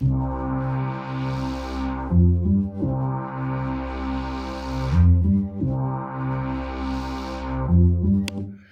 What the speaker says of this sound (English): I've got a bass line which uses fourths and fifths